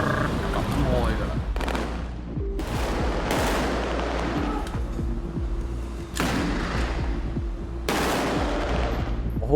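Loud bursts of automatic gunfire crack through a street shootout on a Hong Kong action film set, with sharp clusters of shots repeating every couple of seconds over a continuous rattling din and explosions.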